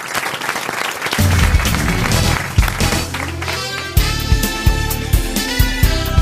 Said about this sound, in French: on vous applaudit, Bruno